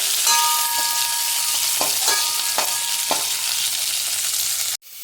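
Onions and dried red chillies frying in a pan, a loud, constant sizzle punctuated by several distinct scrapes of a spatula, then cutting off abruptly near the end.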